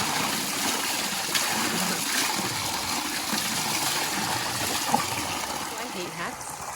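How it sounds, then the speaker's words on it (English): Running water from a trailside fountain or stream on a hot day on the Camino between Zubiri and Pamplona, a steady close rushing and gushing with small splashes as a hat is dipped in, one brief sharper splash near the end. "dipping it in water on a hot day is muy bueno"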